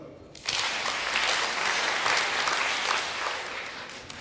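Workshop participants clap short improvised rhythms together in a room, each person making five claps. The overlapping sound reads as a dense, continuous wash of applause lasting about four seconds after a brief quiet start.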